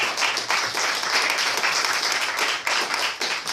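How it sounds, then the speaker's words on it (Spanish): A church congregation applauds during a Spanish-language service, a dense, steady wash of many hands clapping that fills the space throughout with no pauses. "Denle un aplauso a su Señor."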